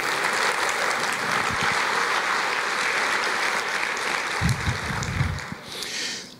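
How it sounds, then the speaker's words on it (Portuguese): Church congregation applauding during a sermon, a sustained, even roar of many hands clapping, with a few close breathy snorts and rustles near the end. "Você pode aplaudir o Senhor e dizer glória a Deus?"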